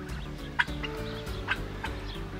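Turkeys on pasture clucking and calling in short bursts over a steady low hum, a few sharper calls standing out near the start and middle.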